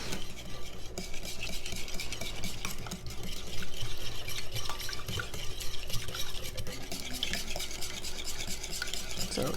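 Crab dip mixture with cream cheese and mushroom soup stirred in a bowl to work out lumps, a steady close scraping and swishing of the spoon that carries on through the whole stretch with no talking.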